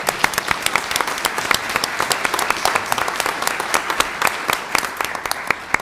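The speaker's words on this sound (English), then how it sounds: "we got to give him a round of applause." Audience applause fills a school board meeting room for a uniformed veteran on Veterans Day, a dense, steady patter of many hands clapping throughout, loud and close, with no talk over it.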